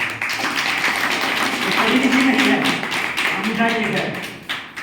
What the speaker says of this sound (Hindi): एक बार जबरदस्त तालियां दी।